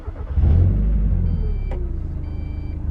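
A Mazda Miata airbag warning chime sounds twice as short high electronic beeps over a car's idling engine rumble nearby, each beep lasting about half a second.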